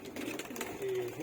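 A female pigeon from a pair of flying-tournament pigeons coos in a short, soft, low murmur over about a second, partly under voices talking nearby.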